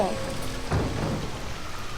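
Rain falls in the LEGO Jurassic World video game as a steady, dense hiss, with a brief louder swell partway through.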